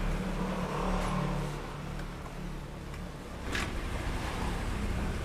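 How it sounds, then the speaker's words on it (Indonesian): A Honda Vario motorcycle with an idling fault, its engine running with a steady low rumble and a brief rise in revs partway through, heard close and without talk. "Coba Soleh dihidupin lagi mesinnya."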